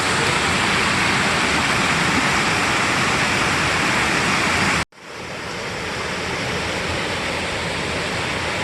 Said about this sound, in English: Waterfalls back over there.